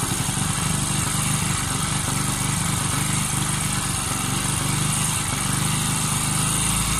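A Bajaj Pulsar motorcycle engine idles steadily up close, a loud continuous buzzing rumble with the revs creeping gradually higher, no voices.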